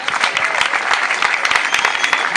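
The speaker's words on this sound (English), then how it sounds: "Clap your hands, please." Dense, steady hand clapping from an audience at an English language writing event in Hawassa, loud and continuous throughout.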